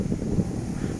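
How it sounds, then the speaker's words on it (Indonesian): Strong wind blows across an open field where kites are flown, a low buffeting rumble gusting against the microphone in uneven surges, with no voices. "angin ini memang 16 km per jam."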